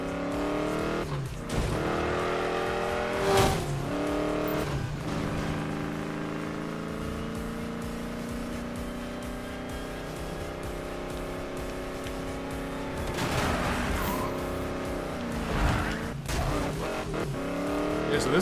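A stock, unmodified car drives in a racing video game, its engine droning steadily with rising and falling revs, broken by several bursts of tire squeal and skidding.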